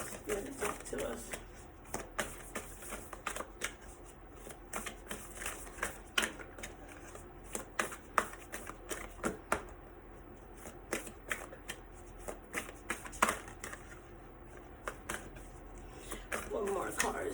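A deck of playing cards being shuffled repeatedly in a quiet room, giving close, crisp riffles and soft flutters in irregular bursts, with a few faint voiced sounds now and then.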